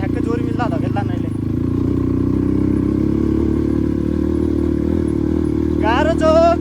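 A motorcycle engine runs steadily at a low, rumbling pitch with clatter as the bike is pushed along a rough mountain trail, while people talk over it near the start and end.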